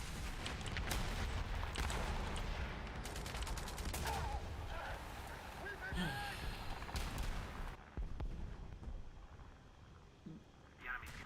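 Tank cannon fire in the War Thunder video game, with repeated booming shots and a dense rumble of gunfire and engine noise throughout, ending in a brief lull.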